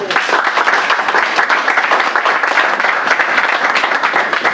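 Church congregation applauding after a Gospel reading in a French-language Mass, a dense, steady round of clapping from many hands that fills the whole moment at close range, with no voices standing out.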